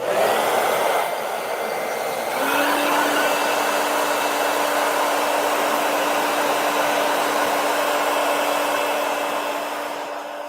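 A heat gun blows continuously to loosen a slip-on arcade marquee, giving a steady close airy roar with a constant motor whine for about ten seconds.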